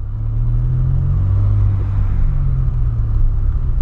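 A Porsche Cayenne Turbo engine and exhaust give off a steady, loud, deep rumble that holds its pitch without clear revving.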